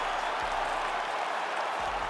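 Crowd applause at the end of a video game fight simulation between Tom Aspinall and Ciryl Gane, a steady wash of clapping and cheering filling the whole moment without letup.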